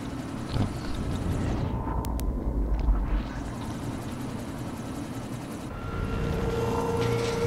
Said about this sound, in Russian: Здрасте, босс вертолет.